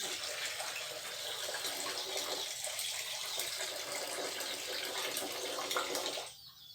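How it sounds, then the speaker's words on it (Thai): Rice is washed in water before cooking, a continuous close splashing and running-water rush that stops abruptly near the end, with no talk. "ล้างล้างล้างให้มันสะอาด แล้วก็มาถอโฮมไว้น้ำเข้ามานะถอโฮม"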